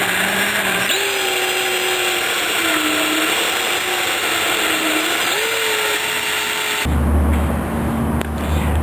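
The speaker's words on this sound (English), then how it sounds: "You're going to take a 3/8 drill bit and you're going to drill your mark." A power drill with a 3/8 drill bit boring a hole in a Polaris Ranger XP 800 airbox, a steady high motor whine with shifting pitch that cuts off abruptly near the end.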